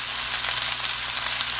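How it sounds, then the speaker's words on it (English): Meat browning in a pan gives off a steady, close sizzle and crackle of hot fat, holding even and unbroken from start to end with no voices over it. "I'm just browning it up and then gonna let it cook for a couple hours."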